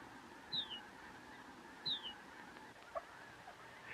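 A young whistling swan on Arctic tundra gives two short rising calls, faint and somewhat distant, over a steady background of other birds.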